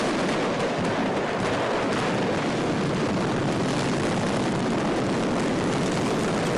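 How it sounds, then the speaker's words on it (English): A fireworks factory explosion in South America, heard as a dense, continuous roar of blast noise and rumble at full loudness throughout, with no talk. "An explosion rocked a fireworks factory in South America."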